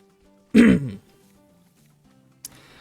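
A single loud, harsh cough erupts close to the microphone over a quiet background of game music, followed by a faint brief click.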